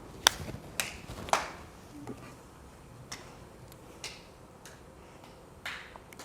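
Claps passed one by one around a group in a participatory museum workshop: single sharp hand claps spaced apart, some crisp and near, others fainter, over a quiet room with no talking.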